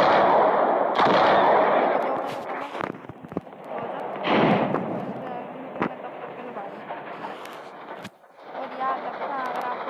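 Navy revolver shots fired in the Roblox game Dead Rails, several sharp reports scattered through a dense, busy game mix with a voice talking over the action.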